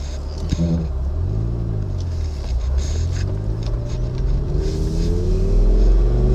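A Lamborghini Gallardo with a gated six-speed manual cruises with its top down, a steady low engine drone mixed with wind noise and rising harmonic sweeps as it pulls along, loud and continuous throughout.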